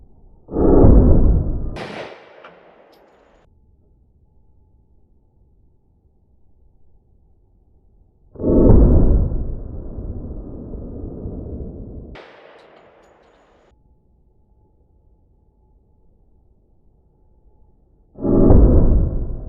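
Three loud, close gunshots from a 10mm pistol firing Liberty Civil Defense 60-grain lead-free hollow points at a range, spaced several seconds apart, each with a sharp crack and a ringing tail.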